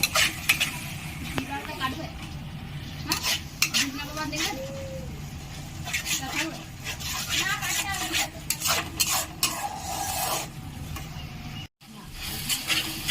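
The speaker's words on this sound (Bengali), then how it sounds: "তারপর আমি এতে দিয়ে দিলাম টমেটো বাটা এটা আমি ভালো করে কষিয়ে নেব" Tomato paste being stirred and cooked down in a pan for Kashmiri aloo dum, with steady scraping strokes of a spoon and soft sizzling, close and fairly loud, punctuated by sharper clinks against the pan.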